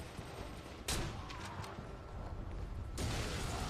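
Rifle fire in Devil's Third, a few sharp shots over a dense, noisy game backdrop, fairly close.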